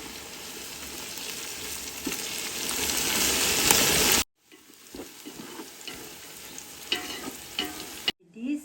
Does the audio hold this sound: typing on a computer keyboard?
no